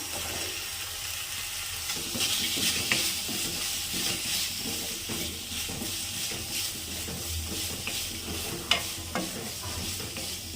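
Food frying in a pan for a farm egg chicken curry, a steady moderate sizzle with stirring scrapes throughout and a sharper clink near the end.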